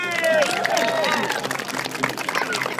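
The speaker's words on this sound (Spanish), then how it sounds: "¡Aplaude!" Audience at a clown show in New York clapping and cheering, a quick burst of scattered applause and excited voices mixed with a performer's shouting.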